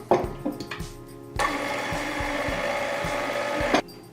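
Black forest cake batter of buttermilk, oil, coffee and vanilla is mixed with an electric mixer, which whirs loudly and steadily for a few seconds between short knocks and taps and then stops.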